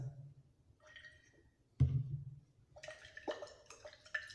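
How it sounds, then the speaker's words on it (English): About 10 cubic centimetres of water poured onto salt in a glass boiling tube during a school lab test, giving soft trickling and dripping followed by a sharper splash and clinking, all fairly quiet and close. "Add about 10 cm cubed of water."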